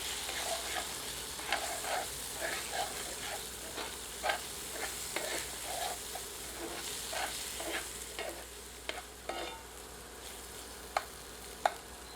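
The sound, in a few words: ginger garlic paste frying in masala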